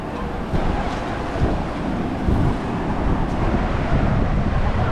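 Loud, continuous rush of surf and wind at Chirala beach, India, with rough seas from an approaching cyclone: a dense roar of breaking waves with gusty microphone buffeting and no voices.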